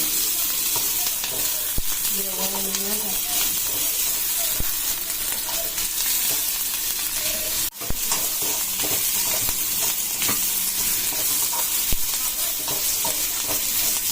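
Onion and two green chillies fry in a pan with a steady close sizzle, broken by the scrape and clatter of stirring and a sharp knock partway through, with faint talk now and then.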